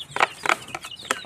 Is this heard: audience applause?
no